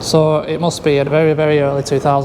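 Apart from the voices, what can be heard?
No distinct noise like a dog, phone or traffic.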